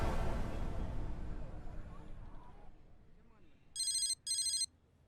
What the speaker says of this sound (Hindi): अली जरा फोन उठाना